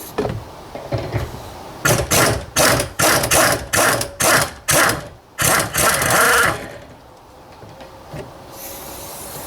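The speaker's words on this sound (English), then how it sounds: "I'll try to use the air gun on it" A pneumatic air gun rattles on a 16mm rear shock absorber nut of a 2004 BMW 1 Series E87, about ten loud close bursts in a row, then a longer burst and a faint tail.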